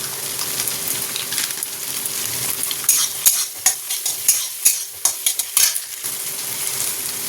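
Frying and stirring in a pan, a steady sizzle overlaid by a quick series of rhythmic scraping clacks of a spatula against the metal, close and fairly clear, with no talking.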